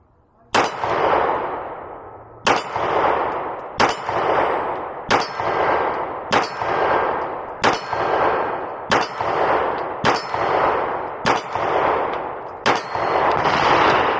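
Beretta pistol shots ringing off a steel target, about eleven sharp cracks each followed by a bright metallic clang, fired at a steady pace outdoors, loud and close with no talking.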